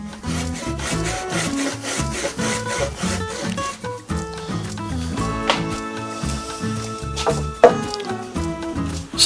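Wood is sawn to length for the pieces of a sign frame, with close, rhythmic back-and-forth rasping strokes repeating steadily throughout.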